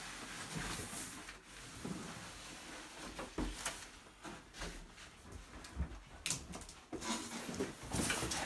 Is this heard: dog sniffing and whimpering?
yes